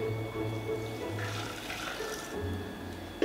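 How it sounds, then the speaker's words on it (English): A liquid mixture for vegan Christmas treats poured into a jug, a continuous trickling, gurgling stream of fairly faint pouring that runs steadily throughout. "I'm going to mix the 2 batches together and then pour it into a jug"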